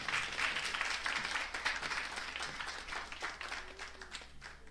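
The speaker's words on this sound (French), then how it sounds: "Vous pouvez quand même l'applaudir." A crowd applauds steadily, a dense wash of clapping at moderate distance that tapers slightly toward the end.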